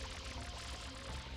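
Water spraying in the video game Super Mario Sunshine: a brief, steady rush of hissing, pouring water, fairly soft and unbroken throughout.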